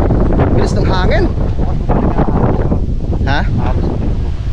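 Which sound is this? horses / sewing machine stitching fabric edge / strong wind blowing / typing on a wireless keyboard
strong wind blowing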